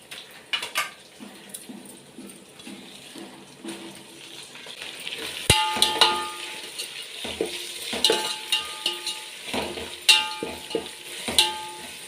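Green chillies and curry leaves hit hot oil in a pan for sambar, starting quietly then bursting into loud crackling sizzle with sharp spattering pops at close range.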